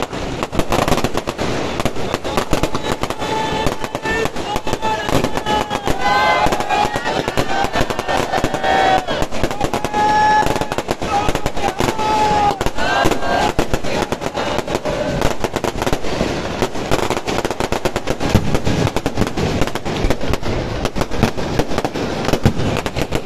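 Firecrackers and fireworks burst without pause at a Diwali celebration at the Golden Temple, a dense, continuous crackle of rapid pops and bangs with whistling rockets rising through a steady crowd murmur.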